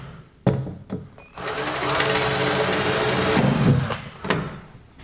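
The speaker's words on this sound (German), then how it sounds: "dreht die Schrauben etwas schräg rein und bohren sie auch schräg vor" A power drill or driver hums in one continuous run of a few seconds, close and fairly loud, angling screws into wood after angled pre-drilling, with a few knocks before and after.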